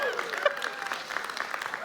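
A church congregation clapping at a service, a steady wash of applause with a faint tone or voice running above it, moderately loud throughout.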